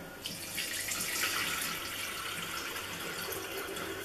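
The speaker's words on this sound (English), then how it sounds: "And I am going to fill this kettle" Tap water running into a Russell Hobbs kettle, a soft steady rush with a splashy onset that holds evenly for several seconds at low level, no voices.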